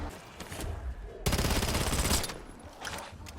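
Rapid automatic gunfire from Black Ops 7 Zombies, a loud dense burst of about a second after quieter in-game noise, followed by softer scattered shots.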